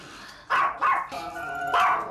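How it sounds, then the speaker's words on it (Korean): A dog indoors barks excitedly at another dog, loud close barks coming in short bursts with higher yelping tones and brief pauses between them. "동종만 나오면 흥분하는 대우."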